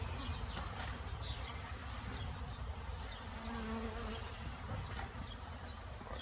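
Agitated honeybees swarm around a backyard beehive being set up, a dense, steady buzzing drone close by that continues throughout without talking.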